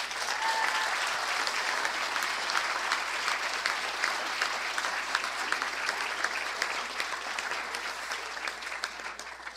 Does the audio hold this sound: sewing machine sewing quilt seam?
no